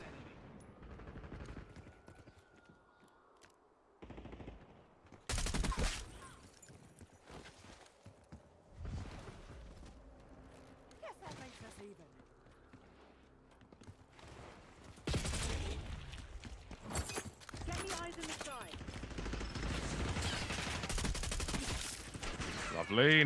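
Gunfire in the video game Black Ops 6 comes in sharp, loud bursts and rapid volleys, sparse at first and then denser and sustained, with quieter game sounds between.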